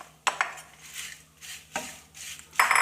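Beaten rice (aval) tipped into a hot pan for roasting, giving a few sharp dry scattering clatters of flakes and metal pan scrapes with pauses between, close and moderately loud with no talking.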